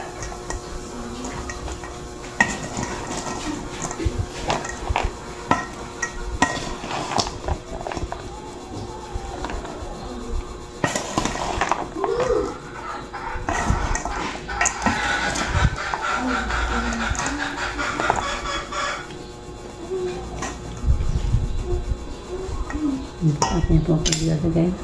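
Tofu and pork being stirred in a cooking pan for a home-cooked birthday meal, with soft scraping and ticking clinks of a utensil against the pan repeating over a steady background.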